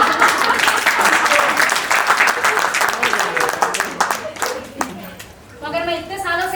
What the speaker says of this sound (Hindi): दो तालियां मारे तुम्हारे वास्ते